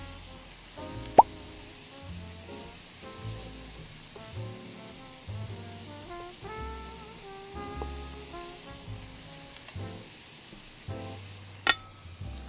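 Japanese rice is added to a pan for pineapple fried rice, giving a soft frying sizzle under scattered plops, taps and stirring clatter, with a couple of sharp utensil knocks; no one talks.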